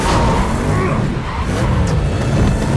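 Heavy car braking in The Batman film: a loud, sustained mechanical rumble and screech with broadband roar throughout, dense and continuous with no clear pauses.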